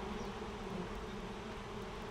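Honey bees swarm an open hive in a backyard, its frames of capped brood and honey exposed, giving a steady, even droning hum that runs unbroken throughout, with no voices.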